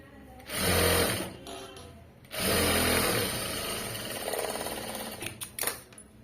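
A sewing machine stitches folded fabric straight onto a garment with a belt section, in two close, steady whirring runs: a short burst, a brief pause, then a longer continuous run that tapers off with a few clicks.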